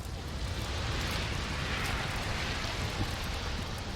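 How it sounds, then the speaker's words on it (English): A horrific house fire blazes in the video game Second Chance, a dense, steady roar of crackling and rushing flame that holds loud and unbroken throughout, with no voices. "our story begins at the end, where we can see this horrific fire."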